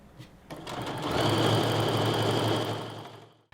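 A sewing machine stitches quilt pieces for a strip-pieced fat quarter quilt, starting with a few brief clicks, then running steadily and loudly at close range for about two seconds before slowing to a stop.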